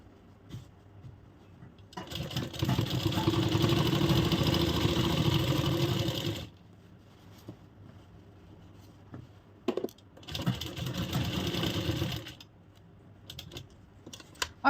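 A sewing machine stitches a Banarasi suit kurti in two loud, steady bursts of rapid whirring, each lasting a few seconds, with a quiet pause between them and no talk.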